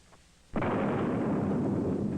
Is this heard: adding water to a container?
no